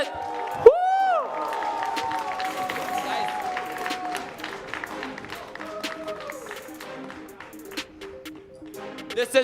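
A crowd cheers and claps at a Mobile Legends: Bang Bang esports grand final as an executive director is welcomed to the stage, a whoop rising over scattered applause with talk and music mixed in.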